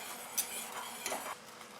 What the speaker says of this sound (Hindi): अब इसमें मैं ऐड करूंगी 1 टेबलस्पून मक्खन